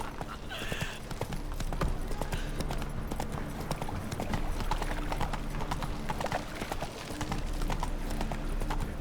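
A horse gallops in the PC video game The Witcher 3: Wild Hunt, with rapid, rhythmic clip-clop hoofbeats running steadily throughout and a brief whinny near the start.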